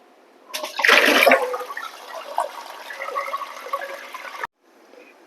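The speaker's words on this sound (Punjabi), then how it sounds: "ਉਹਨਾਂ ਚਿਰ ਅਸੀਂ ਚੌਲ ਸਾਫ਼ ਕਰ ਲੈਣੇ ਆ ਪਾਣੀ ਨਾਲ" Rice is rinsed with water while namkeen chawal is made, a loud rush of water swirling and splashing for several seconds, then cutting off abruptly into quiet.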